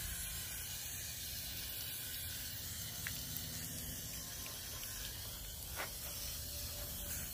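A garden hose with a shower-style spray nozzle rinses dirt off a boat trailer tire and rim, producing a steady, broad hiss of water spraying close by without pause.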